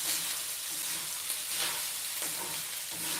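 Fried rice fries and gets stirred in a pan, a dense steady sizzle with occasional scraping stirs throughout, close and fairly loud, no voices.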